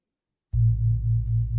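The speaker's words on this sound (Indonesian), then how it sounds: "ini disebut dengan gong. Suaranya seperti ini." One deep gamelan gong stroke, the lowest-pitched gong, after a moment of silence, its low tone humming on with a slow, pulsing waver.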